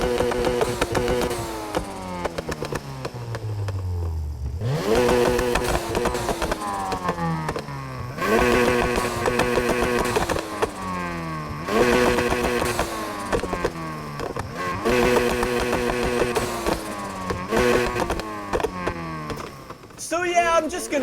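A widebody Mazda RX7 in Need for Speed Heat revs its custom exhaust repeatedly, about half a dozen loud bursts that climb in pitch and fall back between pauses.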